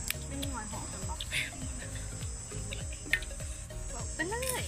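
Cicadas drone in a steady, continuous high buzz outdoors during a meal of som tam (spicy papaya salad), with people chatting loudly over it throughout.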